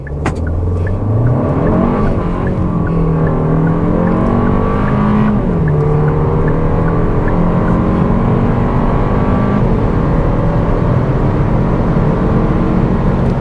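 A 2026 Kia K4 hatchback drives under steady, loud engine noise, its pitch climbing and falling as the car accelerates and shifts, with road and wind roar filling the background and no voices.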